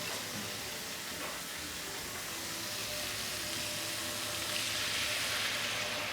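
Meat sizzles steadily in a hot pan as broth is poured in for an Armenian holiday dish, a constant close frying hiss with no talk.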